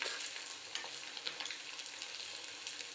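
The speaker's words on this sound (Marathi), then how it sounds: "चांगली फ्राय होती आहे." Constant hissing sizzle of cabbage frying in oil for Kobi 65, with tiny pops and crackles scattered throughout, faint but close and uninterrupted.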